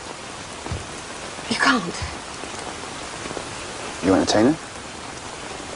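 Steady rain falls in a continuous soft hiss under a period drama scene, with people talking briefly over the even downpour.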